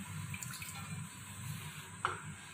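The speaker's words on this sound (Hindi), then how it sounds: "1/4 कप पानी डालेंगे" A quarter cup of water is poured into a pan on a gas stove, a soft, steady trickle with watery splashing, followed by a brief clink near the end.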